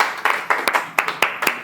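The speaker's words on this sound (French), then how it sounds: "Sous vos applaudissements, bien sûr." Scattered clapping from a small audience at a French-language book launch, a handful of sharp separate claps in a loose, uneven rhythm, close and moderately loud with no talk over it.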